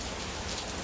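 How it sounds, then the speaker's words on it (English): Steady rain falls outside a cigar lounge at night, an even, dense hiss of drops close by with no voices and no pauses throughout. "all you're gonna hear is this rain behind me"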